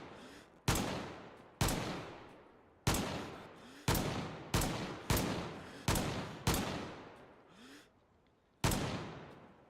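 Rifle shots ring out one after another in DayZ, about eight sharp, loud cracks each trailing a long decaying echo, spaced irregularly at roughly one-second intervals, with no talking over them.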